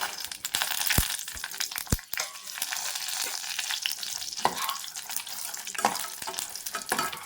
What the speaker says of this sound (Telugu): ఆయిల్ కూడా బాగా కాగిపోయిందండి వేడికేసుకుని ఎండుమిర్చి వేసేస్తున్నాం